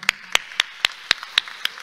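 Sparse, evenly spaced claps, about eight sharp hits in two seconds, from a small group applauding graduates at a professional registration ceremony, fairly close with little else around them.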